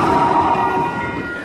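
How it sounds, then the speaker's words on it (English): Train passing nearby, a brief loud rumbling roar with a faint tonal hum, steady then easing slightly; no talking. "You guys see the train?"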